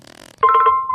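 A telephone rings with an incoming call on a radio show: a loud, steady electronic ringing tone starts abruptly after a short stretch of quieter sound and holds to the end.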